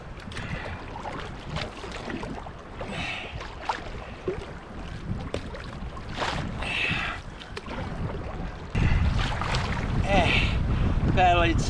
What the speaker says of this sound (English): Paddling sideways into these big waves is not too fun